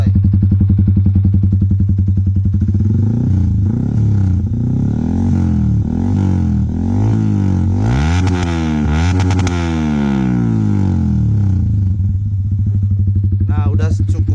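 Yamaha R15 V3 motorcycle with a short Pauliner TR1 Black exhaust revved repeatedly up close, loud engine rising and falling through several throttle blips over a rumbling idle, with someone talking at times.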